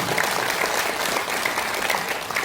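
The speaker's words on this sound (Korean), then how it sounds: "박수 한번" Steady applause from a crowd at a political talk concert, dense clapping filling the whole stretch without pause.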